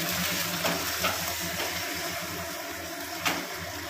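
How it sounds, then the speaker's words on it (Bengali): An egg omelette fries in a pan with a steady, close sizzle and crackle, broken by a few soft scraping stirs. "ডিমের অমলেট করছি, আলু দিয়ে ঝোল করে নিই।"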